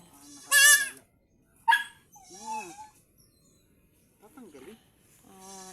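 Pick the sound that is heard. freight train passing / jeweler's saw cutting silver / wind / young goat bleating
young goat bleating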